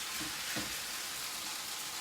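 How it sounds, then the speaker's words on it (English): Faint, steady sizzling and crackling of velveted chicken frying in hot oil, with a couple of soft stirring bumps; no talking. "as soon as it touches the food, it'll start that frying process"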